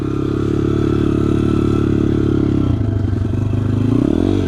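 A Chinese BRZ F150 motorcycle engine runs loudly close by, a steady throbbing drone that shifts pitch near the end as the rider changes speed.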